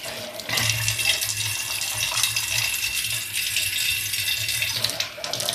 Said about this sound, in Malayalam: ഇനി ഞാനിതിൽ വെള്ളം ഒഴിച്ച് കാണിച്ചു തരാം.